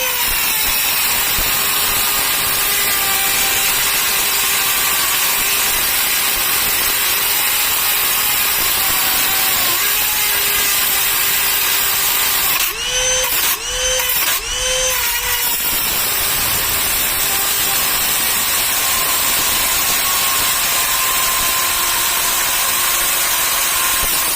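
Ryobi and Dremel rotary tool cutting wheels grind through material with a constant high-pitched whine and gritty abrasion, close and loud throughout, with a few brief pulsing interruptions midway.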